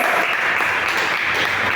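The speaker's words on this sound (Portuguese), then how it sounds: "Aplauda o Senhor!" Church congregation applauding, a dense, even wash of clapping from a sizable room with no gaps and no speech over it.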